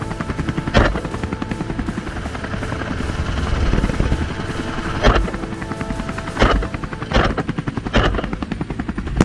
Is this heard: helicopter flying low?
yes